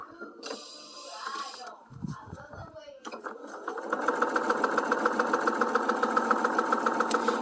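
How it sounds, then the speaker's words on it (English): A sewing machine stitches another circle of fabric for bloomers, steady rapid mechanical clatter running loud and continuous through the second half after quieter handling and rustling at the start. "I line it up here, and then I just sew again, another circle."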